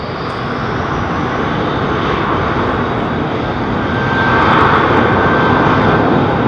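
A Delta Airbus A330-900 jet at London Heathrow Airport gives a steady, loud, broadband engine roar that holds evenly and swells slightly toward the end, with no voices.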